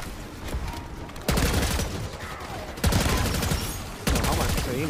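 Bursts of heavy gunfire from the Supersonic Crusher weapon in Black Ops 6 Zombies, loud and dense, with three sharp onsets starting new sustained volleys over a constant roar of game noise.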